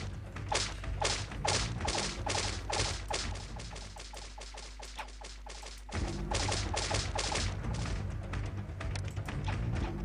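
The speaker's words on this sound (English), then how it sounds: "Sounds like machine gun fire." Rapid bursts of machine gun fire in the strategy game Pharaoh, a dense rattling barrage that runs steadily for the whole stretch, loud and close, with a thinner patch in the middle before the full clatter returns.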